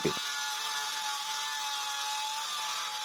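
A power saw cuts timber for a French cleat with a continuous, loud, close buzzing whir that holds steady after a brief knock at the start.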